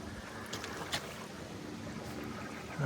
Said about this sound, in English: Got the pump out machine going here and emptying the toilet tank.